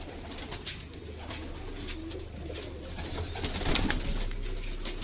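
Pigeons in a breeding setup cooing softly and repeatedly, low burbling calls close by against faint background noise, growing slightly louder toward the end.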